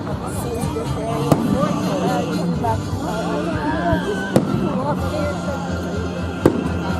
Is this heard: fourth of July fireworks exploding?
yes